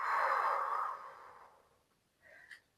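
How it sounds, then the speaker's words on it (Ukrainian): A single deep exhale during a morning beginner yoga session. It is a long, soft, breathy sigh that fades out over about a second and a half, followed by a faint short breath sound. It is close and quiet with no talk. "І останній раз вдих. Видих."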